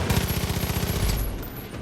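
An incinerator shotgun fires in a rapid, rhythmic burst in the Far Cry 5 video game, loud and close with dense repeated low thumps, then tails off into a fading rumble.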